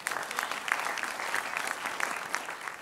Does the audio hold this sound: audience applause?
yes